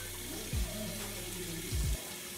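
Water running steadily from a tap while conditioner is rinsed out of a person's hair, a constant close splashing rush with two brief low thumps.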